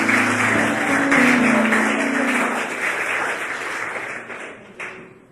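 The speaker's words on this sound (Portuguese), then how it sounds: "Pode aplaudir?" A church congregation applauds during a Sunday evening service, a broad steady wash of clapping that holds for several seconds and then slowly thins out, with faint sustained tones beneath it.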